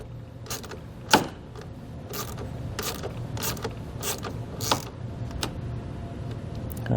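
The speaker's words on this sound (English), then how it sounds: "we're going to remove that nut using a 13mm socket" A 13mm socket loosens a nut on a powered stud at a fuse panel during an RV trailer brake controller install, giving quiet, irregular mechanical clicks and creaks spaced a second or so apart.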